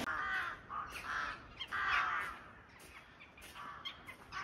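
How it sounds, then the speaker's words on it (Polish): Crows caw repeatedly near the Baltic coast, a series of harsh calls in uneven bursts, moderately close, over quiet outdoor background with no talking. "Widzicie to? Tam są wrony."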